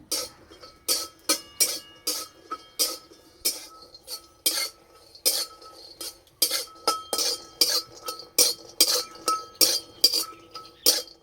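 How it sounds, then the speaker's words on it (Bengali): A metal spatula stirs garlic and green chilli lightly frying in a wok, clanking against the pan in a steady, rapid rhythm of sharp, close metallic strikes throughout. "হালকা করে একটু ভেজে নেব।"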